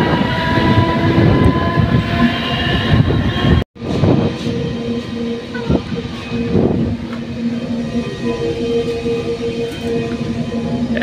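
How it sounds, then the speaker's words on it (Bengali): A train rolls past a station platform where people sit waiting, its loud, steady rumble of wheels and carriages continuing with a brief break near the middle and faint tonal horn-like notes riding over it. "ট্রেনটা যাচ্ছে"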